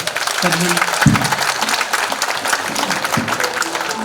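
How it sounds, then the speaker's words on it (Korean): A crowd applauds after a special lecture at a Korean association's 44th general assembly. Broad, steady clapping runs throughout while a voice talks over it now and then. "좋은 강의 주신 이분님께 감사의 큰 박수 다시 한번 부탁드리겠습니다"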